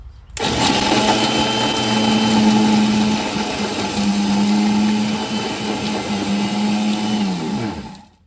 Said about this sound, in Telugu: ఇప్పుడు ఇవి కూడా మిక్సీకి వేసేస్తున్నాము మెత్త పేస్ట్ లాగా